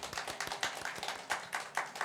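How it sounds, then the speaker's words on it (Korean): Congregation at a Korean church service in Jakarta clapping for the choir, a close, irregular patter of hand claps from a small group, loud and uneven with no talk over it. "성가대를 못 썼는 수고하신 우리 이장사님께 박수 한번 주시겠습니다."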